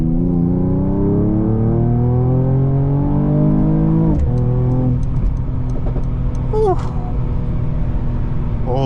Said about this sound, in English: Show you what it's like to drive an AMG, even though it may be a straight 6.